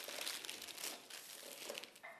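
Butter paper laid over apple pie dough crinkles softly as a rolling pin passes over it, a faint continuous rustle and crackle with a few sharper crinkles, close to the microphone and without talk.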